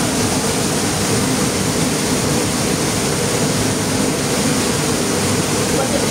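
River water rushing past a cave in the middle of a river, a loud, steady broadband roar that holds unchanged and fills the whole stretch with no break.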